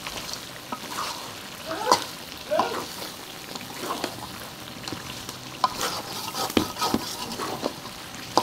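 Beef curry frying and simmering in a pot on a village clay stove, with broth being added: steady sizzling and bubbling throughout, broken by a few louder stirring scrapes and splashes, fairly close.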